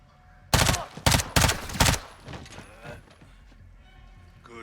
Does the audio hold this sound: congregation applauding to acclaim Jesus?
no